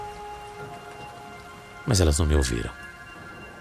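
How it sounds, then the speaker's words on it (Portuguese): A radio drama rain effect hisses steadily, a continuous soft patter of heavy rainfall, while someone speaks over it briefly in the middle. "E caiu muita água. Mas muita água mesmo. Muitos relâmpagos, trovões."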